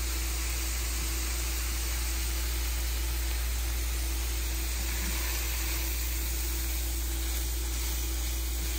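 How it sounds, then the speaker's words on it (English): Food sizzling steadily in a hot pan for a home dinner, a continuous hissing fry at moderate level with no break, heard alone without talk. "You hear that sizzle?"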